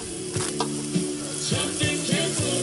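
Bacon sizzles on a grill with a dense, steady hiss, close and fairly loud, along with a faint repeating mechanical whir underneath and no talking.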